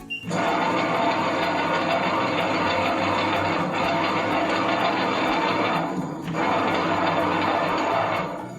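Ultra fast wet grinder running in one of its preset modes, a loud, even mechanical churn that holds for most of the stretch, with a brief dip and pause near the end before resuming.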